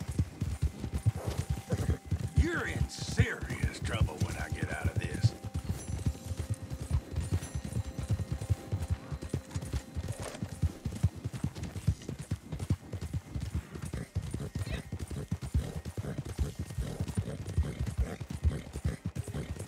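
Horse hooves clip-clop steadily and close in the Western game Red Dead Online, a brisk repeating rhythm heard throughout, with a brief whinny-like tone early on.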